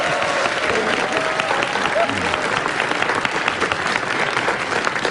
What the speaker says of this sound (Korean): 김은지 기자에게 박수 부탁드립니다